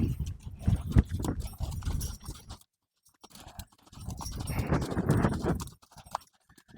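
A horse's hooves clip-clop and shuffle on the ground while it is kept moving during its first saddling, close and uneven, with a short quiet gap midway and some panting or snorting.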